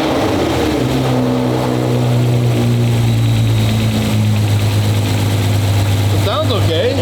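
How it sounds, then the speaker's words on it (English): A car engine runs steadily at idle with a freshly installed pressure pump, producing a continuous low drone, and voices talk intermittently over it near the end. "That new pressure pump sounds good."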